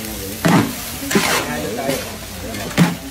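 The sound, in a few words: stirring food quickly in a frying pan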